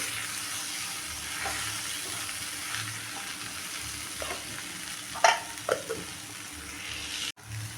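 Onion-tomato chutney fries in a pan while it is stirred, a steady soft sizzle running throughout with a few sharper scraping clicks near the end and no talking.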